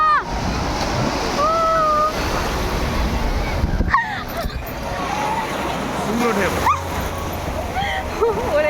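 Sea waves and a strong current surge and splash at Digha beach, a continuous close wash of surf; people talk and call out over the water throughout.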